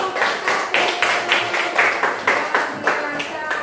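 A classroom of students applauds after a group presentation, clapping together in a steady rhythmic beat of sharp, evenly spaced bursts that carry on loud and close throughout.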